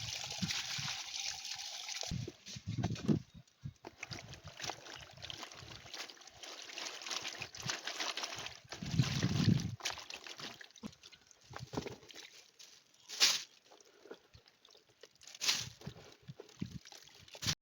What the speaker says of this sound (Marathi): पहिल्यांदा ना मडका चांगला धुवून घ्याव